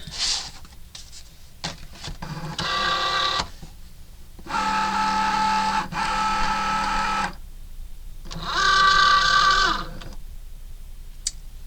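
A Cricut cutting machine cuts a paw print card design, giving three sustained mechanical whirring bursts separated by short pauses, close and fairly loud, with faint clicks between passes.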